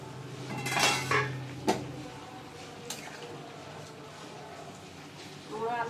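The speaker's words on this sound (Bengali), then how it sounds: "এবার আমি ঢাকাটা খুলবো।" A metal lid lifted off a cooking pot while preparing a Bengali vetki fish curry, giving a couple of sharp clanks and scrapes close by, followed by quieter kitchen clatter.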